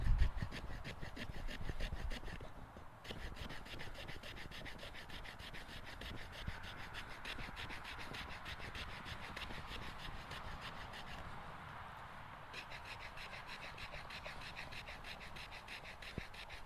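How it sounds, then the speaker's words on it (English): The spine of a Morakniv Companion MG knife scrapes fine shavings from wood, a steady close rasping that keeps going without a break and dips briefly twice. "what this spine is doing, as you can see here, it's removing fine shavings from the wood"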